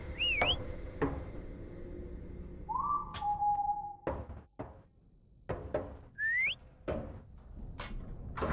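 Eerie whistling in the horror game Lazaret aboard a ghost ship: separate rising and gliding whistle notes come and go between sharp knocks and thuds, with quiet gaps in between.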